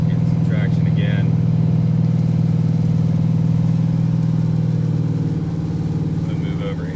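A car running four Hoosier drag slicks on a wet, rain-soaked road gives a loud, steady engine drone with a constant low hum and broadband road noise, easing slightly toward the end.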